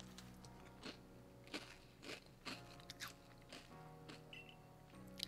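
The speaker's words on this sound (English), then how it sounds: "I'm gonna chew the chip and you can guess what" Loud, close crunching as a large chip is bitten and chewed, with sharp repeated crunches at an uneven rhythm over about five seconds and no talking.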